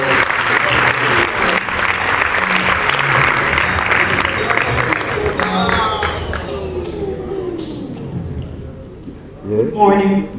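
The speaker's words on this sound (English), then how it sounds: "A big round of applause." Audience at a formal ceremony bursts into loud, dense applause that swells and then thins out to scattered claps before a final brief burst.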